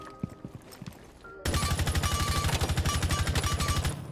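Light machine gun fired on full auto in Rainbow Six Siege, a close, loud, rapid burst of evenly spaced shots lasting a few seconds after a few quieter single reports.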